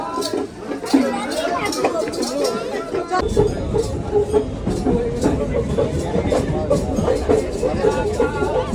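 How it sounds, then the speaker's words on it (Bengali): A train pulls into a station platform at Aronghata, its heavy low rumble and rolling clatter rising loud after a few seconds and continuing steadily beneath crowd chatter and people talking nearby. "দেখো আমাদের ট্রেন ঢুকে গেছে।"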